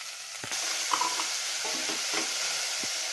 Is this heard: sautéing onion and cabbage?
yes